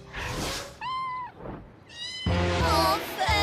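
A kitten's grandpa-owned pet meows in a French children's cartoon, giving two or three clear, rising mews with noisy bumps and a busy musical or effects bed between them.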